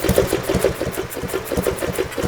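A car engine idles close by, with a steady rhythmic chugging pulse that keeps going without a break and no voices over it.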